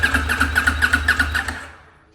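A newly assembled CFMOTO NK motorcycle, freshly fuelled, fires up for the first time: a quick run of rhythmic cranking pulses as the engine catches, then the sound fades away, close and fairly loud.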